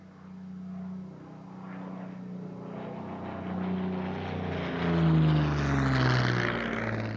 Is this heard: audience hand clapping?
no